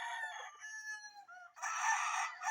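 A rooster crows loudly and close by, two drawn-out calls in a row with a brief pause between them.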